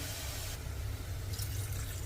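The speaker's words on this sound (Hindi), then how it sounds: "तो अब इसमें पानी डाल देंगे।" Water is poured steadily into a pan of fasting-style potato curry gravy, a continuous low splashing and trickling that stays close and even throughout, with no talking.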